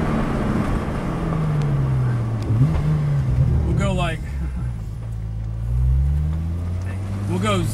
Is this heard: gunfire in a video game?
no